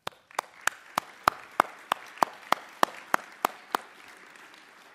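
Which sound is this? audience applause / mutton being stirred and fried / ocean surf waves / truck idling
audience applause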